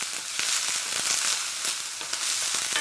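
Chopped orange bell pepper sizzles steadily in a hot pan, a dense, even crackle heard up close with small pops scattered throughout.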